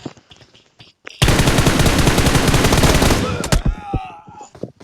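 Rapid automatic gunfire bursts loudly in a shooting video game, with a long sustained volley followed by a few scattered single shots and faint background chatter.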